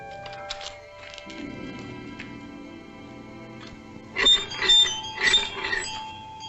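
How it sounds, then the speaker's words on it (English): A bell is rung at a house door in a 1946 film scene, several bright clanging strikes arriving late after a quieter stretch with faint background tones. "Ring the bell, boy."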